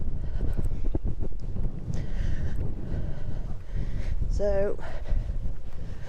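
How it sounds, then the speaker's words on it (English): Wind buffets a microphone while someone walks outdoors in cold weather at a medieval site, giving a loud, steady low rumble, with a person talking over it and a short whistling squeak near the end. "I'm currently walking into the wind."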